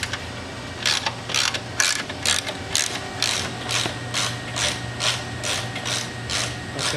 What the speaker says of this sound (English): we're going to go ahead and remove this the top bolt on the tank. So we need a 1/2 inch combination wrench and a socket.